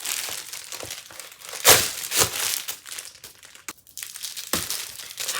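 Crinkly plastic shrink-wrap being torn and crumpled off a new book, close and loud, with sharp rips and continuous crackling over several seconds and no talking.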